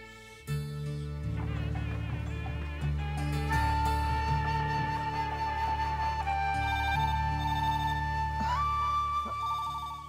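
A mobile phone ringtone plays a steady, looping electronic melody of bright tones, loud and close, for the full length with no speech, in a scene from a Tamil television serial.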